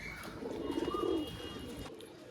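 Pigeons coo in a low, rolling burst that swells near the middle and then fades, close by, with no voices over it. They are quality birds offered for sale.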